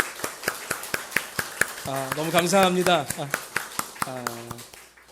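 Sharp, evenly spaced claps ring out through a Korean church's Sunday worship service as the congregation welcomes a visiting pastor's family, with someone talking over the steady clapping for most of the stretch.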